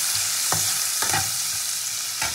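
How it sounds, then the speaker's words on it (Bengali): Tomatoes sizzling in oil in a pan, a steady bright hiss of frying broken by three or four scraping stirs of a spoon at regular intervals, close and fairly loud, no voices. "টমেটো ভাজা হবে তো আমি এর মধ্যে দিয়ে দেবো কাশ্মীরি মির্চ"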